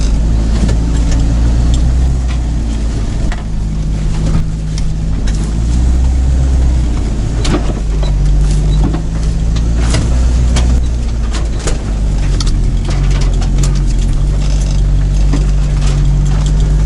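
A car on road tyres churns along a rutted, muddy forest track, its engine droning loud and close in a steady labouring rumble for the whole stretch, with no voices.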